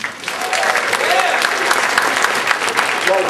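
Loud, continuous applause from a comedy club audience, steady dense clapping with a few whoops and cheers mixed in, close and full throughout.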